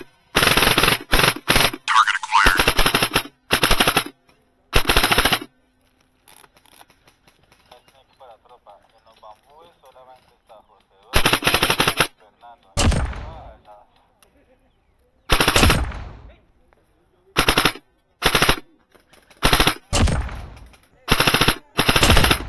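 An airsoft gun with its trigger set for faster response fires in repeated full-auto bursts, loud close rattling strings of shots separated by quiet gaps, with brief faint sounds between volleys.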